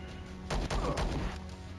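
Gunfire in the Star Traders video game: a couple of sharp, loud cracks close together near the middle of the short clip, over a low background hum.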